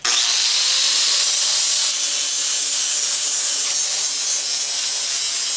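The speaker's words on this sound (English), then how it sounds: "we're back to the angle grinder" Angle grinder cutting sheet metal in a Toyota AE86 engine bay during a shave project, a loud, steady high-pitched grinding hiss held close up without a break for the whole stretch.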